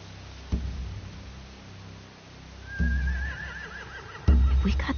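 Horses whinny and neigh in a stable or yard, a wavering high call rising midway and a louder burst near the end, with occasional thumps and no voices.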